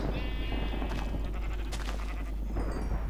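Sheep in the Minecraft video game bleat in short nasal cries, one clear bleat near the start followed by more scattered calls over steady game background noise.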